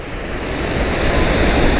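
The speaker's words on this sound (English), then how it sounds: "let me take you to the front of the waterfall" Chitrakote waterfall in Chhattisgarh gives a steady, loud roar of broad rushing water, close and unbroken with no pauses.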